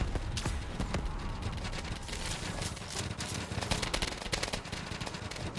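Rapid, dense bursts of gunfire from plant turrets mowing down zombies at a fence in a Call of Duty Black Ops 3 Zombies game mode, a continuous loud clatter of shots with no talk.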